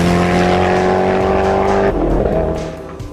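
A Koenigsegg Agera R supercar drives close by with a loud, high engine roar that drops in pitch and fades as it pulls away.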